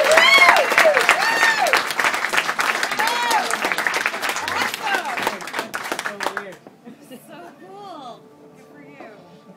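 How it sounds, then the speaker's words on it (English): An audience claps loudly for a volunteer walking back to his chair at a live comedy hypnosis show in a pub cabaret. The applause runs about six seconds under a voice talking over it, then cuts out, leaving his speech alone. "Big round of applause for Alex as he heads back to his chair."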